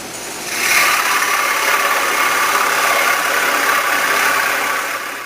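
A power tool, likely a drill press fitted with a plug cutter, runs at low speed boring wood plugs in a furniture maker's shop, a steady whirring drone with faint rattle, near and continuous with no talking.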